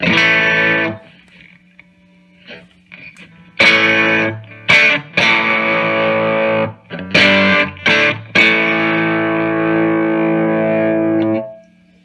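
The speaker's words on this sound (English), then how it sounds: "you'll notice there's a little bit of distortion, just the faintest little bit" An electric guitar plays chords and notes through a TFA Effects Sultan boost pedal with slight gritty distortion, ringing out between short silent gaps.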